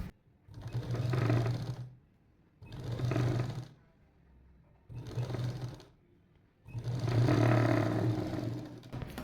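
A sewing machine runs in four separate bursts while stitching the front panel of a three-piece princess-cut blouse, with short pauses between runs, close and steady, and no talking.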